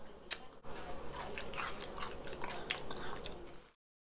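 Close, wet chewing of soft, crumbly flapjacks during a mukbang, steady moist mouth sounds with small smacks and squishes, then abrupt silence.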